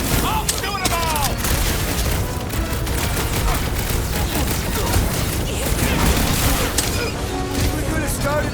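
Dense, loud gunfire and booming blasts from the Marvel's Guardians of the Galaxy video game, firing almost nonstop as a battle rages, with character voices shouting over the barrage.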